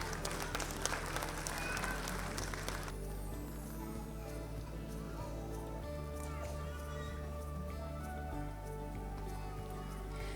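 An audience claps at a school annual day celebration at Rassaz International School, Mira Road, after a student's award is announced. Dense, loud applause fills the first few seconds, then thins to a softer, scattered patter.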